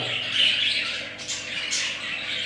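Lovebirds squawk and chatter in a cage, a dense, continuous run of shrill, scratchy calls close by, with louder bursts partway through and no talking.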